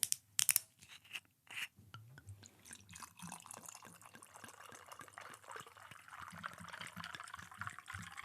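Juice poured into a weird, funky novelty mug: a steady liquid splash and trickle with small drips and clinks, fairly faint and close, following a few sharp knocks at the start.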